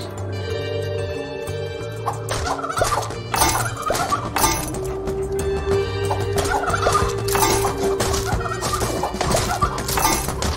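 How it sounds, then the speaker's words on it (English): Chickens squawking and clucking in a fight in the video game DeathSpank, with repeated sharp hit and clatter sounds over steady game music, loud and busy throughout, no voices. "Don't mind me, I'm just spanking some chickens."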